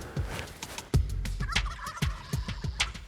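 A wild turkey gobbler in spring Montana woods gobbles in a rapid, rattling burst of repeated throaty notes, fairly close and clear, with a few sharper calls mixed in.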